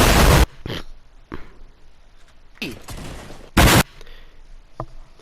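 Loud explosion sound effects used in Share Factory video editing, heavy booming bursts at the start and again later, with shorter thuds and crackling debris between them.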